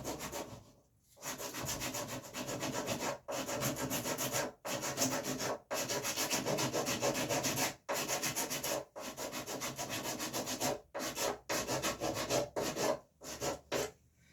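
Hand sanding of a wooden bow: steady, rasping back-and-forth strokes close up, in runs of several seconds separated by short pauses, then quicker broken strokes near the end.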